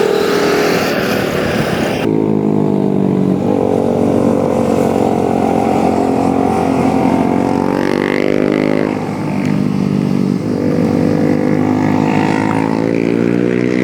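Vehicle engine running steadily and loudly after starting, with a rising, wavering harmonic drone as it begins to pull away, close by with no talk.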